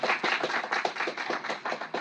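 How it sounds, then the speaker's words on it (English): Steady, brisk clapping from a small group of hands in a radio drama scene, continuous and fairly close, with no voices over it. "Applaud, all of you."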